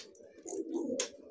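A giring pigeon coos once during training, a short, close, soft throaty call that stands alone with no talking over it.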